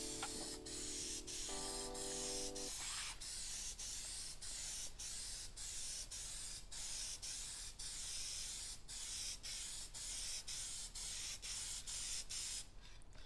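Steady, close hiss of an aerosol can spraying in long continuous bursts, with a brief mechanical hum early on and no talking.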